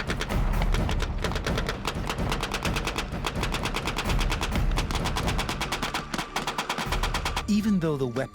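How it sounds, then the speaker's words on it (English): A machine gun fires blanks during a military battle exercise in loud, rapid, evenly spaced bursts that run almost continuously, with a brief lull near the end. "Even though the weapons are only firing blanks, it's clear the machine gun controls the battle."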